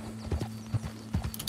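Horse hooves clip-clop in the Red Dead Online video game, a handful of distinct hoofbeats in an uneven trotting rhythm over a steady low hum, close and moderately loud.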